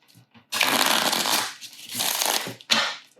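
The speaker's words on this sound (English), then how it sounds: "I can just shuffle these guys." Small tarot cards shuffled by hand in two bursts of dense riffling, close and fairly loud, with a short snap at the end and no talking.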